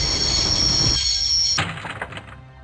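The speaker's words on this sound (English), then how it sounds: "I always wanted to stop a train, and now was my chance." A train in the Broken Sword adventure game rumbles and screeches with a high squealing tone, then cuts off with a heavy metallic thunk as it stops, followed by fading clanks.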